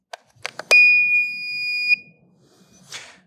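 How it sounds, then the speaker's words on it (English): The BuildTuff Mildred valve gives a single sustained electronic beep lasting about a second once its batteries are inserted, preceded by a few faint clicks of battery handling and followed by a brief soft rustle in a quiet room. "Now that the fourth battery's gone in, we heard the audible alarm. That tells us that the Mildred valve is receiving power."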